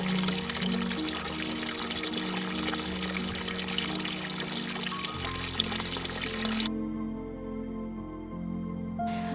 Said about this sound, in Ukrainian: Б'ють тут з-під землі кришталеві джерела людям природне здоров'я несуть.